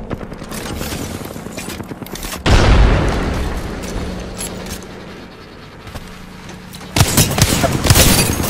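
Frag grenades going off in the Apex Legends video game: a loud, deep blast with a rolling rumble, then a quieter stretch and a second sharp explosion near the end.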